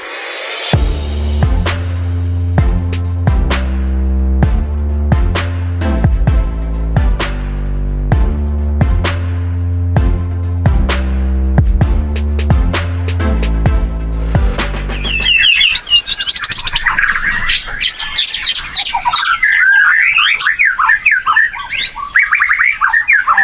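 A white-rumped shama (murai batu) pours out loud, rapid, varied whistles and chirps close by during the second part, after a stretch of steady rhythmic instrumental music.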